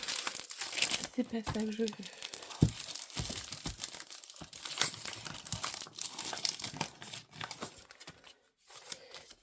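Paper being cut out and handled in a crafting session: continuous crinkling, rustling and snipping noises close by, fairly busy throughout, with someone speaking French briefly over them.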